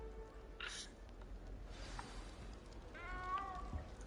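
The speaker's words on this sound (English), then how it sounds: "Don't be frightened, little cat." A cat in a video game meows once, faintly, with a short rising cry near the end over low background hum, preceded by a couple of soft rustling bursts.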